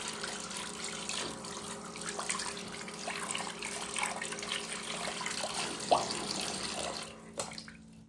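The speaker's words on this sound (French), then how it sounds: "On va laver ta petite main toute sale d'orange." A water tap runs steadily into a sink while a small child's orange-sticky hand is washed, a continuous close splashing stream that cuts off near the end.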